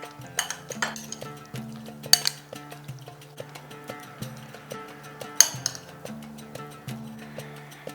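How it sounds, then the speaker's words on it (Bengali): Raisins, black raisins, chopped almonds and apricots being mixed in a bowl for a Christmas cake, with light repeated clinks and taps of a utensil against the dish in an uneven rhythm. "এরপরে সমস্ত জিনিসটাকে মিশিয়ে নিচ্ছি"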